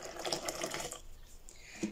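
Water is poured into a fabric softener mix, a brief splashing, trickling stream that tapers off after about a second, close and moderately quiet with no speech.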